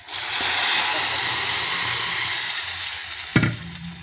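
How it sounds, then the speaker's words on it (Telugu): Lentils tipped into fried onions and curry leaves in a hot pan give a loud, continuous close-up sizzle, with a sharp clatter from stirring near the end. "ఇప్పుడు ఆనియన్ వేగిపోయిందండి. ఇందులోకి పప్పు వేసేసుకుందాం."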